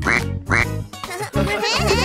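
A duck's quack in a children's Halloween song, a few loud nasal honks repeating in quick rhythm, sung or voiced over music as a voice imitates the bird.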